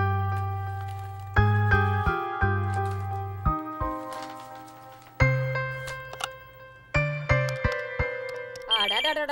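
A telephone rings in a Tamil film scene, playing a loud, repeating electronic melody of bright, decaying notes in short phrases, with a voice briefly heard at the very end.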